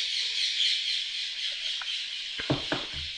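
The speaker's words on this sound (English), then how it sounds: "suddenly the birds here have become very, very noisy, so I'm sure you can hear that" Birds squawk and chirp outdoors over a steady high hiss of calls, with a few sharper, louder squawks near the end, heard alone without talk.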